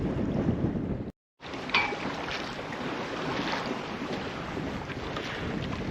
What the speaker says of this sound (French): Malgré tout, du monde sur la plage et beaucoup de vent encore.